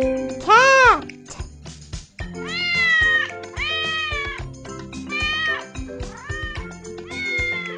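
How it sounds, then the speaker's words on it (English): A cartoon cat in a children's photo puzzle game meows several times, drawn-out and fairly loud, with bright jingly tones and a child-like voice woven between the calls. "Cat!"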